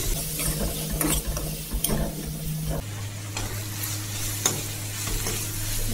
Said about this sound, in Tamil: இஞ்சி பூண்டு தக்காளி நல்லா வேகிற வரைக்கும் நல்லா ஃப்ரை பண்ணிக்கலாம்